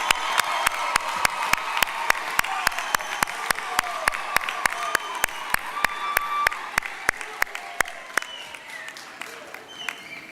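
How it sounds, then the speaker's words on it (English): Sustained applause and cheering from a graduation ceremony crowd at a University of the Free State campus session, with sharp, evenly spaced claps ringing above a dense wash of clapping for about ten seconds before easing slightly toward the end. "Let's give them another round of applause with loud cheers."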